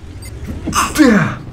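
A single loud, close sneeze bursts out after a short indrawn breath, sharp and explosive before trailing off.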